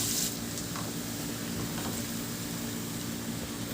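Chopped garlic sizzles steadily in a pan of a little cooking oil and about two tablespoons of butter, a close, continuous hiss with faint stirring scrapes and no talking.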